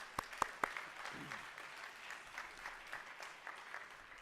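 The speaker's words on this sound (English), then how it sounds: "Another round of applause for Dr. Quinlan." An audience at a CEO conference applauds a speaker, a fairly faint spatter of clapping from a seated crowd with a few sharper claps up front, tapering off over a few seconds.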